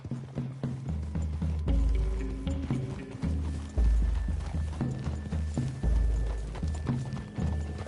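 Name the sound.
horses galloping, Red Dead Redemption 2 video game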